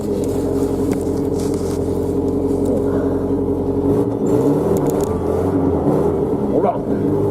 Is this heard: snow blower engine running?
yes